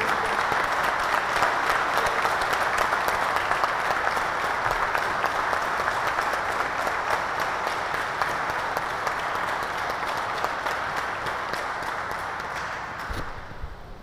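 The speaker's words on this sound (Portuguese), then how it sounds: "eu peço uma salva de palmas para vocês" Sustained applause fills a solemn ceremony hall during a Tiradentes Medal presentation, a thick, even wash of many hands clapping that holds steady and then tapers off toward the end.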